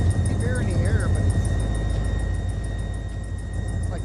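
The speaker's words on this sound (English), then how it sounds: "it's like the engine making all that noise." A locomotive engine in the Run 8 train simulator game drones loudly and steadily throughout, with a few brief chirping squeaks near the start.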